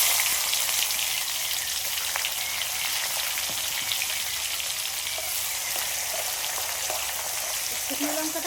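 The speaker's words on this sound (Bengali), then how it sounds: "পেঁয়াজ কুচি দিয়ে দিচ্ছি।" Chopped onion frying in hot oil with bay leaves and dried chillies for a chicken curry, a steady crackling sizzle like light rain, close and continuous.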